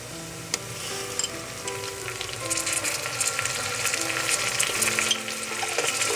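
Teaspoon of ginger and minced garlic frying in hot oil in a pan for Indian moong masoor dal, a steady close crackling sizzle throughout with occasional stirring clinks and no talking.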